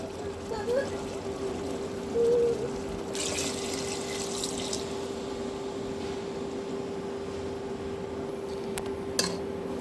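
Water poured into a pan of egg malai curry, a steady liquid splash and trickle running throughout, close and moderately loud.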